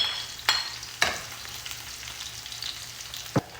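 Garlic frying and sizzling in a pan, a steady close hiss broken by a few sharp clacks of a utensil stirring against the pan, with no talk.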